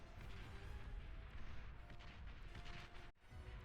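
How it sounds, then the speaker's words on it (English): Artillery battle in the real-time strategy game Beyond All Reason, a dense, continuous roar of distant explosions and rumbling booms with a brief dropout near the end. "Got a nice little artillery battle here."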